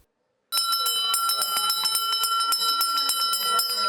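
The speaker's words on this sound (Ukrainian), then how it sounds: "Цього року вперше шкільний дзвоник лунає у порожніх класах" A school bell rings through empty classrooms, rapidly and continuously after a moment of silence, a bright, metallic clattering trill that goes on without a break.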